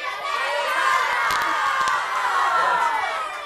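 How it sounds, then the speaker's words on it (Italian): A school audience cheers and shouts continuously for its team at an Apulian televised quiz contest, a loud, dense crowd roar of mostly young voices with brief sharp peaks. "Ognuno fa il tifo per il proprio istituto"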